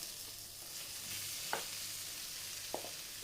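Potatoes going into spices frying in a pan for chicken aloo samosa filling, a soft, even sizzle with two brief clicks of a spoon stirring, quiet and without speech.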